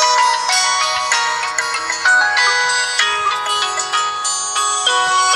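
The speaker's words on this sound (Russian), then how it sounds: "Покажу сейчас, как звучит данный смартфон." An Ulefone Be One smartphone plays its ringtone loudly and close, a bright melodic sequence of chiming tones repeating in a steady rhythm with no talk.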